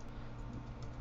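Quick keystrokes on a computer keyboard while entering hex color values, a faint continuous patter of light clicks at low volume.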